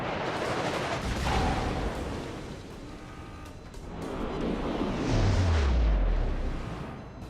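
Cruiser guns firing in a naval warship game, the République battleship, with deep rumbling booms over a steady background roar, a heavy low blast swelling and sweeping downward near the end.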